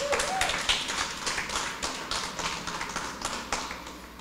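A church congregation claps steadily, many hands together, in a dense continuous burst with a slight rhythmic pulse, fairly close.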